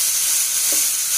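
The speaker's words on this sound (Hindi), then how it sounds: "अब हमें तब तक भूनना है जब तक ये ऑयल नहीं छोड़ देता।" Grated tomato puree fries in hot oil in a pan, giving a steady, close hiss and sizzle with a faint stir partway through.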